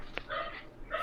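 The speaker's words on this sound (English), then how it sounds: "Sorry about the dog." A dog gives a couple of short, sharp yips and barks indoors, close and fairly loud, with brief whimpering tones in just over a second.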